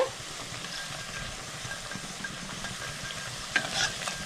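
Battered cauliflower fritters frying in oil give a continuous soft, hissing sizzle, fairly quiet, with a few brief brighter crackles near the end.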